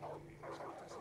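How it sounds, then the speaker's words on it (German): Dogs in the video game Far Cry 5 bark and yip briefly and faintly, mixed with a voice in the background. "Was sind diese Hunde?"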